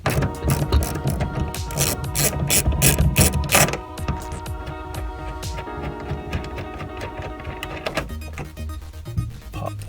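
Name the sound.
ratchet loosening bolts on Ford Taurus tail light enclosure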